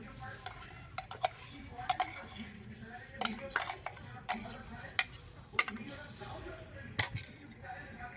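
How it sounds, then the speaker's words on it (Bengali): Ripe mango pulp is mixed into other ingredients in a bowl, giving a run of light, irregular clinks and scrapes, close by and fairly quiet. "তো আমের পাল্প দিয়ে আবার একটু মিশিয়ে নেব।"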